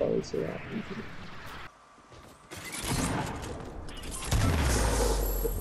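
Rocket explosions in a Fortnite battle: heavy booming blasts and rumbling crashes build across the clip, with a brief lull in the middle before a loud, sustained burst toward the end.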